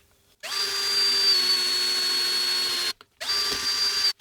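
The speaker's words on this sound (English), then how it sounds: "I've put it in my drill." A power drill on a low, non-hammer setting bores a pilot hole in a guitar pedal enclosure, running loud and steady with a high whine for about two and a half seconds, stopping briefly, then starting again.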